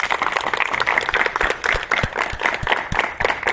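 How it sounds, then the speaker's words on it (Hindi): Applause from children at a welcoming gathering, a brief patch of uneven, moderately loud clapping with individual claps standing out and faint voices mixed in. "तालियों से स्वागत भी कीजिए।"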